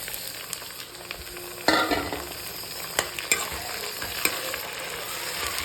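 Chopped tomatoes and green chillies fry with onion and curry leaves in a pan for bitter gourd kuzhambu, a constant close sizzle broken by a few sharp spoon scrapes and clinks.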